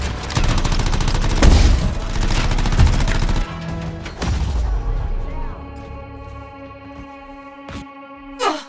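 Turret gunfire in the video game Anthem, with rapid bursts of loud automatic shots and blasts for several seconds that give way to ringing electronic tones and a few sharp impacts.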